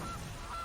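Two short honks from the Gilded Goose card in the video game MTG Arena, a quick nasal game sound effect repeated twice in a row at moderate level.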